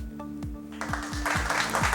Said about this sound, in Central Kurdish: چەپڵەکانتان بۆ زیتەڵە